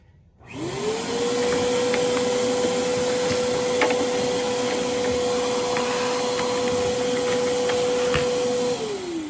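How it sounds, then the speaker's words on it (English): A vacuum cleaner switches on and runs with a steady, loud whine and motor drone, cutting off near the end. "got the trusty vacuum on out"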